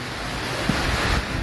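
Strong typhoon wind in the Philippines roars steadily over a wash of falling rain, a dense continuous rush with brief gusty bumps, no voices.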